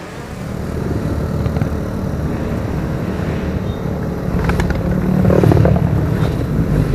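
Big motorcycles ride in a touring group near Bogor, a steady loud engine drone with rumbling low end that swells toward the end as bikes pass close, no talking.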